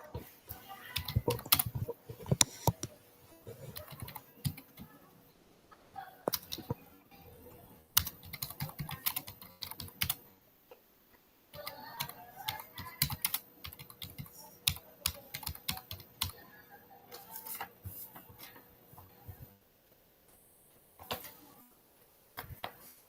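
Rapid bursts of typing on a computer keyboard clatter in irregular runs separated by short pauses, fairly close and clear, with no talk over the keystrokes.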